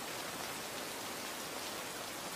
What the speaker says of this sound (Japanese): 山は狐の嫁入り雨。